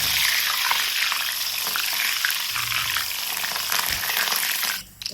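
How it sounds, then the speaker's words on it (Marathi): Green chilies frying in hot oil, made while preparing thin poha chivda, give a steady, loud broadband sizzle that holds evenly throughout and cuts off abruptly near the end. "आपण त्या मिरच्या तळून घ्यायच्या."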